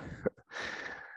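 A single short, quiet sneeze, a sharp burst of breath followed by a brief airy exhale, heard close and alone.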